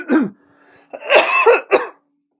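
A person clears their throat and coughs in a few short, close, loud bursts separated by brief pauses, with no speech.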